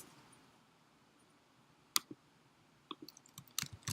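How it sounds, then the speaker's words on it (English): A few sparse keystrokes on a computer keyboard after a quiet pause, some single and some in small clusters, close and fairly soft. "And I should be able to type bash"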